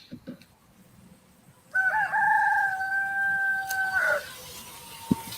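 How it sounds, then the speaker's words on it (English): A backyard rooster, bought as a hen, crows once in a long drawn-out call of about two and a half seconds, moderately near and loud over faint outdoor ambience. "Can you hear my rooster?"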